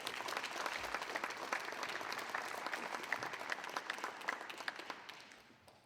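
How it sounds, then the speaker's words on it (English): An audience at a press conference applauds with a dense wash of claps that sounds fairly close. It stays steady for several seconds, then thins and fades near the end. "let's give her a warm applause."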